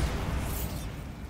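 A Bombarda explosion spell in Hogwarts Legacy goes off as a loud, deep booming blast with debris-like rumble, trailing into a brief hissing decay.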